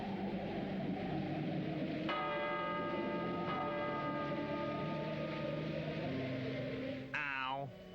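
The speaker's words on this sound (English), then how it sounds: "So they rang the bell." A castle door bell rings in a cartoon with clear tolling strikes, a couple of resonant chimes sustaining and layering, followed at the end by a rising, warbling tone.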